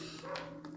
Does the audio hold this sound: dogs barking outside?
yes